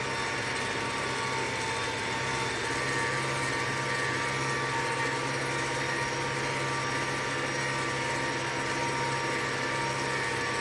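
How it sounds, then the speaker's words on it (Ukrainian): Inside a tractor cab while sowing corn, the engine produces a constant, loud mechanical drone with a low hum and a broad hiss that stays unbroken and unchanging throughout. "цей трактор, щоб ще обішумити. І він мені подобається. Так в ньому трошки шумновато"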